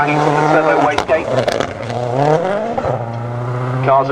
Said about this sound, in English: Fantastic popping and banging from the turbo wastegate.